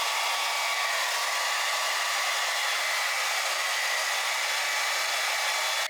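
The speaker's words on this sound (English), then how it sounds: "So I think I'm just gonna like quickly just blow dry it a bit more." A handheld hair dryer blow-drying freshly dyed and styled hair, running as a steady, loud, continuous airy roar from start to finish with no talking.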